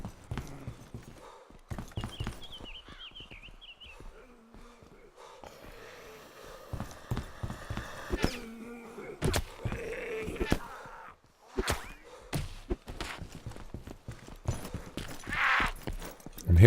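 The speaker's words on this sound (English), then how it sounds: "I'm hearing footsteps, guys." Irregular footsteps thud and clop near and far inside a building in the DayZ Breaking Point game, a run of firm steps with shuffling between them and a voice talking at times over them.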